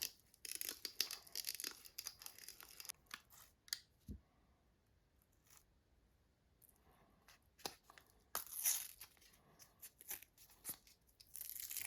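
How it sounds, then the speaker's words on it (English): A jacket stripping tool or shear cuts through the braided covering of RG6 coax cable, giving close, crisp snips and crunchy tearing bursts separated by short quiet gaps. "Use a jacket stripping tool or other type of shear to remove the braided covering."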